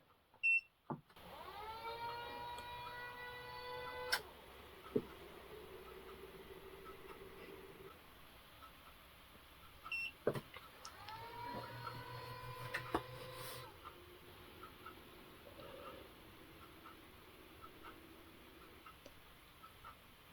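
Fossibot F2400 and Tallpower V2400 power stations switch on in turn, each giving a click and a rising electronic whine that settles into a steady, faint cooling-fan hum, with the second unit noticeably louder.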